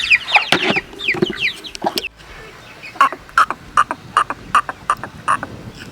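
Farm chickens cluck nearby, first in a busy overlapping burst, then in a steady series of short, distinct clucks after a brief pause.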